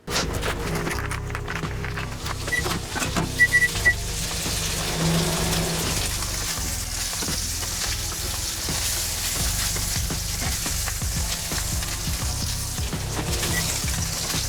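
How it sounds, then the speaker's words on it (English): Grease frying on a home stove, with a continuous dense sizzle and crackle and frequent small pops scattered throughout, steady and close, no talking. "the popping grease always scares me"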